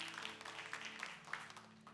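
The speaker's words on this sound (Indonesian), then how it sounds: "Tepuk tangan buat Tuhan Yesus." A church congregation claps together at a Sunday worship service, a brief spatter of applause with a few sharper claps standing out.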